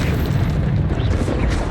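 Deep booming burst of the Expulso exploding spell in Hogwarts Legacy, a short loud rumbling blast.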